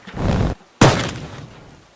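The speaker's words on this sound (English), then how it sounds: "Explosion." An explosion goes off in the destruction game Teardown: a soft rumbling whoosh, a brief gap, then a loud sharp blast that decays over about a second, heard alone.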